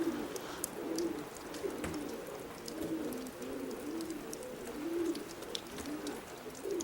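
Roller pigeons coo softly in a repeating low rhythm, with scattered faint chirps and clicks over a steady outdoor background.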